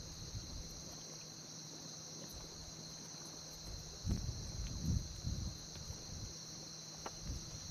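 Crickets chirp steadily at night beside a campsite near a dam, a faint continuous high trill with a few soft rustles and thumps in the foreground.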